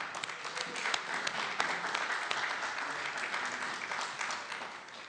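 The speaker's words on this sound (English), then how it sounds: "let's give them a round of applause" Quiet, sustained applause from the audience at a National Press Club awards event, a steady patter of many hands lasting several seconds and easing slightly at the end.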